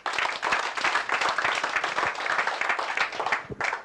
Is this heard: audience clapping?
yes